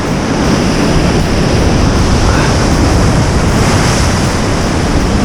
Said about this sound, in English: It's a real proper surf swell.